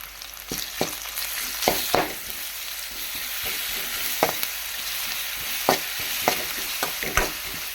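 Onions and garlic paste frying in a pan for sambar, a steady broadband sizzle with irregular sharp scrapes and clinks of a spoon stirring, close and moderately loud throughout.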